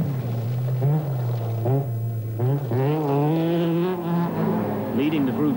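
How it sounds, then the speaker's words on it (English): Vauxhall Astra GTE Group A rally cars at the 1986 Scottish Rally, a loud, continuous engine drone with rising and falling revs that sound near and steady throughout. "Leading the Group A battle, the Astra GTE of Andrew Wood, his usual rival, Pentti Aurikkala, right behind in his Astra"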